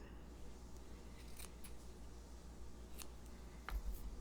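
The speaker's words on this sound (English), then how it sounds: "But of course, it needs to have a little trim." Scissors trimming the ends of a ribbon bow on a shaker card, a few quiet, crisp snips spaced apart in a hushed room, with a slightly louder rustle at the end.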